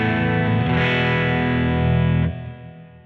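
A distorted electric guitar chord rings through an effects chain with the reverb switched off, sustaining thickly for about two seconds before cutting off sharply and leaving a short, dry decay.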